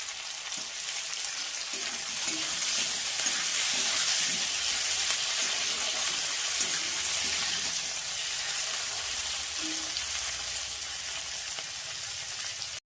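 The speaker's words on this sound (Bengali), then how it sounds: "পেঁয়াজের সঙ্গে ক্যাপসিকাম আর টমেটোটাও 1 মিনিট ভালো করে কষিয়ে নিয়েছি" Onion, capsicum and tomato sizzle steadily in a hot pan with tempering spices, a loud, continuous frying hiss broken by soft scraping as the mixture is stirred.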